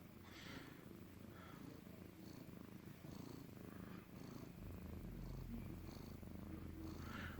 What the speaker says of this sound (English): listen to that purr, guys.